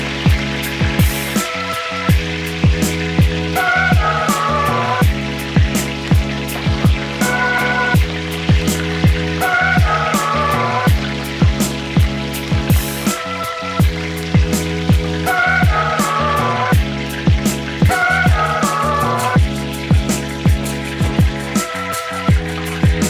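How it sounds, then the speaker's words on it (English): Pork chops fry in a pan of hot oil with a steady, bright sizzle, punctuated by regular crackles and pops. The sound is close and continuous throughout, with no talking. "I'll continue to fry off the other 2 pork chops"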